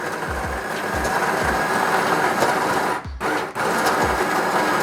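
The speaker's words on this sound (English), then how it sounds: "and in comes the grind." A Sunbeam Barista Max espresso machine grinds coffee beans in a steady, loud whirring drone that runs continuously for several seconds, with a brief dip near the end as the grind pauses momentarily.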